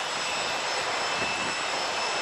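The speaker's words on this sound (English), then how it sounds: "That is a sharp-looking airplane." Airplane at Atlanta airport roaring steadily as a loud, broad, unbroken engine rush through the whole moment, with no talk.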